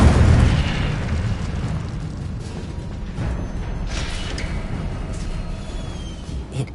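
Fiery spell blasts from Hogwarts Legacy on PS4, a loud booming burst at the start that decays into a rumbling, crackling roar with a few fainter whooshing flares following.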